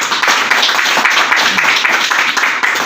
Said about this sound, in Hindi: एक बार जोरदार ताली